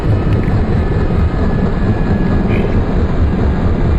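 A UH-60L helicopter in DCS World winding down after shutdown, its rotor and turbine producing a loud, steady broadband rumble and whoosh that fills the scene without a break.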